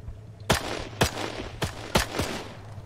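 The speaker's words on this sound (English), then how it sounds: "There's the MG gun up there" Machine gun fire in a D-Day World War II airborne combat video game: five sharp, loud bursts spaced roughly half a second apart over a steady low hum, with no voices.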